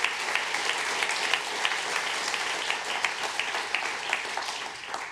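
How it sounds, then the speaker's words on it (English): Audience applause at a dedication ceremony for a new public policy building: steady, dense clapping from a large crowd, sustained evenly with scattered louder claps throughout. "Give him a round of applause."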